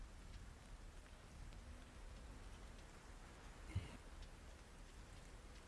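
Steady, faint rain falls continuously, an even hiss with a single brief knock partway through and no voices.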